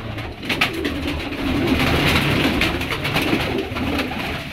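Pigeons coo in soft, repeated calls over a steady background hum, close by, with no talk.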